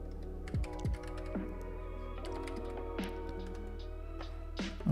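Typing on a computer keyboard during a live stream, steady soft clicks running under a constant low electrical hum, with a couple of louder isolated taps.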